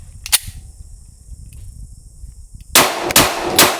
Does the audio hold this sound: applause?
no